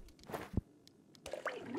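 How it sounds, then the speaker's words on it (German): Water poured onto a bonsai in the video game Hell Is Others gives a short squishy splash and a few soft drips, faint and brief against a quiet background. "ich würde einmal den Bonsai gießen"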